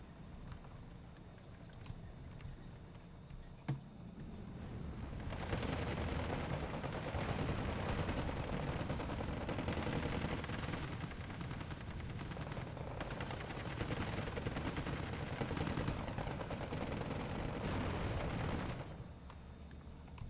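Dense, sustained gunfire and shelling in the World War II strategy game Steel Division II, a continuous crackling rumble of shots and distant blasts that swells in and then cuts off, with no talk.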